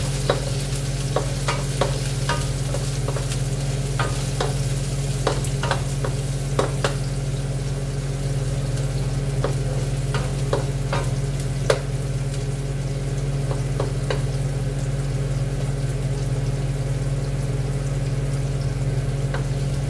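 Chopped onions frying in hot oil in a home kitchen, a steady loud sizzle with sharp crackling pops and splatters scattered throughout, close up and without voices.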